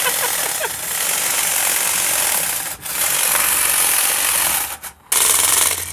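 A motorized vibrating butter knife cuts through a melon, producing a loud continuous buzzing rasp with a couple of brief dips and a short stop near the end, without speech.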